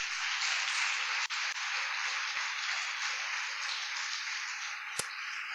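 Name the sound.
audience applause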